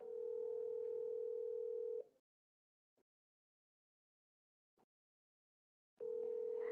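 Two long tones of an outgoing phone call ringing, separated by a few seconds of silence with faint clicks, heard clearly with no talking.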